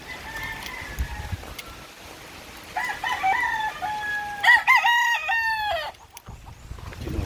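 A gamecock crows clearly nearby at a game farm in Agusan del Sur, Philippines, its drawn-out call rising and falling, with a second crow overlapping amid faint outdoor background noise.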